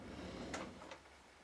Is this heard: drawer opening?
yes